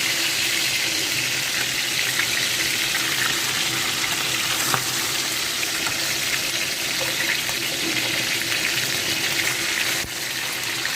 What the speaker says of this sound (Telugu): చేప ముక్కలు తిరిగేసుకుందాము ఇలా వేపిస్తావాలి బిర్యానీలోకి